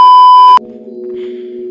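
A radar device in the VR game Rec Room gives a single sustained electronic beep, loud and clean, cutting off abruptly into quieter background game tones.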